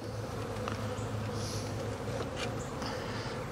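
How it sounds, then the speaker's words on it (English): Honeybees from a healthy package colony installed in a horizontal hive give a steady, close buzzing hum that holds evenly throughout, with no voices over it. "You can see there's a lot of bees. This is a pretty healthy package."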